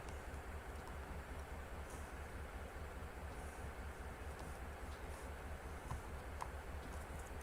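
A Norfolk Southern freight train in Train Simulator 2021 rolls steadily with a continuous low rumble and faint clicking, no talk.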